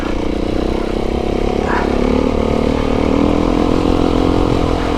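An enduro motorcycle rides along a green lane, its mid-pitched engine droning steadily and close throughout with some clatter, while a faint voice briefly sounds beneath the motor noise.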